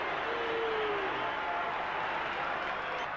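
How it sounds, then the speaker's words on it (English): A rugby league crowd at a 1987 Winfield Cup match roars steadily after a penalty goes to Penrith, a sustained, dense wall of cheering and applause heard from a distance, with a commentator's voice layered over it. "The penalty's gone to Penrith, and the crowd erupts."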